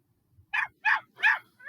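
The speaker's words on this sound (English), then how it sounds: "My dog sounds like this, but this is a recording." A recorded dog barks three times in quick succession, sharp and fairly close, with a fourth bark just starting at the end; no talking.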